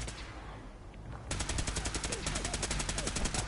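Fallout 4 video game gunfire starts abruptly after a quieter opening, a fast, evenly spaced stream of shots in the background that runs steadily to the end.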